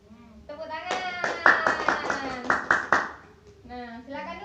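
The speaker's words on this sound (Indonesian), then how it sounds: "Tepuk tangan." A classroom group claps together in a short burst of brisk, close applause, a few voices sounding over the clapping before it fades and speech resumes.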